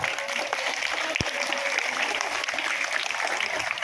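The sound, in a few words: applause for Bastian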